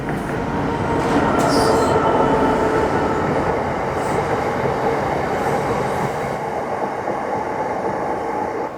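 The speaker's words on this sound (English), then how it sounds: "they control Metrolink services and the National Rail services like this freight train." A National Rail freight train rolls past on a Manchester line, a loud, steady rumble of wheels on track lasting nearly nine seconds, with brief metallic squeals early on.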